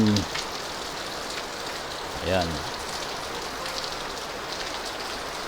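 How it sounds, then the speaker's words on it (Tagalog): Heavy rain pours steadily in a dense, constant hiss, with a brief spoken word and a short vocal sound partway through. "Lakas ng ulan."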